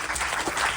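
A crowd claps at a Ganesh Chaturthi religious gathering, a brief burst of dense, steady applause from a room full of people.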